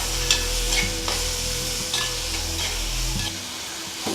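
Tomatoes and salt sautéing in a pan for Tamil fish curry, with a steady close sizzle and periodic scraping stirs of a spoon throughout.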